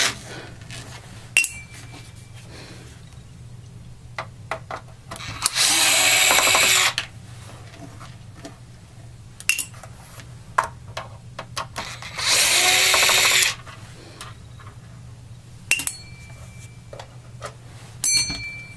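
Screws come out of a Sony PlayStation 1 casing, with two bursts of a power screwdriver whirring a second or so each, scattered small clicks and clinks of screws and plastic, and a low steady hum underneath.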